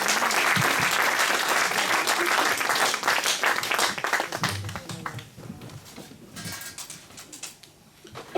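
A church congregation at a Sunday meeting applauds, with dense sustained clapping that is loud at first and gradually thins and fades.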